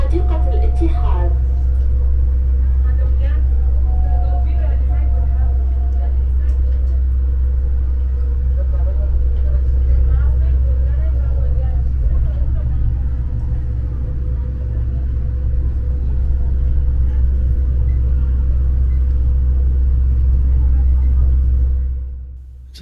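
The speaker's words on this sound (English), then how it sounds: "It's a nice little ride on the monorail," Dubai monorail ride heard from inside the car, a steady loud low rumble of the train rolling along with faint higher squeals early on, fading out at the end.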